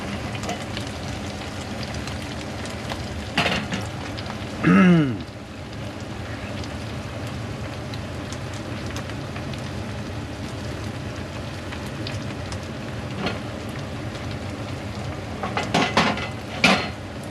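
Japanese gyoza fry in an uncovered pan, giving a steady crackling sizzle throughout, with a couple of louder metallic clatters from the pan and utensils.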